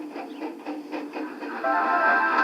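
A steam-powered steamroller chuffing along a road, a rhythmic series of puffs that builds into a louder, steadier chugging near the end, close and without talk.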